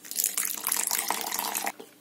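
About 100 ml of water pours steadily into a handy container already holding a teaspoon of sea salt, mixed as a fishing attractant for carp. It makes a close, bright splashing rush lasting almost two seconds before cutting off.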